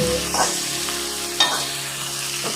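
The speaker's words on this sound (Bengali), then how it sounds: "আর ভাজতে হবে একটু ভালো করে, তাই তো?" Bhola fish frying with green chilli and ginger in a hot pan, a close, steady sizzle broken by a few scraping stirs of the spatula.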